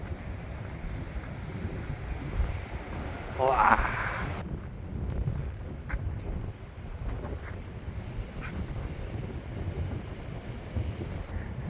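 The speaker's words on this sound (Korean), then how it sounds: "저 밖으로는 지금 파도가 엄청납니다" Strong sea waves breaking beyond Eupcheon harbour on the Korean east coast near Gyeongju, heard as a distant, wind-buffeted wash with one louder surge early on, under gusty wind noise on the microphone.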